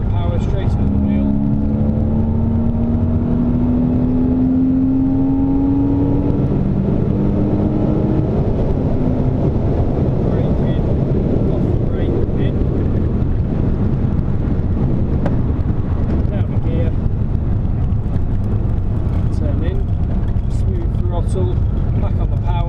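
A car on the Silverstone race track drives with a loud, steady engine drone mixed with heavy wind buffeting, the engine pitch climbing early under acceleration while a voice talks over it.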